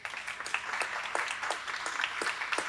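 Audience applause for drummer Camila at a seminar on Caribbean Colombian drumming, steady clapping from a modest crowd with a few sharper individual claps standing out.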